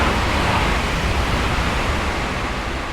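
Exterior running sound of a DB BR 411 ICE-T train in a train simulator game: a loud, steady broadband rushing roar with no breaks, like wind and rolling wheels at speed.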